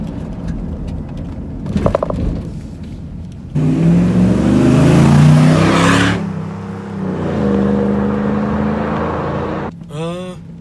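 Ram Rumble Bee truck with a V8 Hemi pulling away under gentle throttle, engine rising from a low rumble to a louder broadband roar, then settling into a steady cruise before a brief whine at the end.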